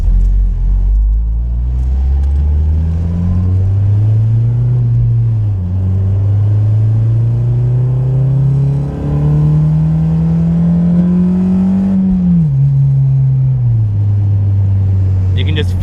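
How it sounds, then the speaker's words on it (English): A Honda K24A four-cylinder engine revs while driving, its pitch climbing steadily as VTEC engages, dropping at gear changes and rising again, loud and close throughout with talking mixed in. "You can just feel the extra kick once VTEC kicks in."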